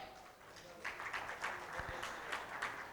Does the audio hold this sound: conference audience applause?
yes